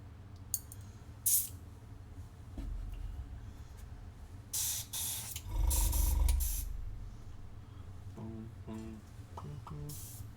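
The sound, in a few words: airbrush spraying paint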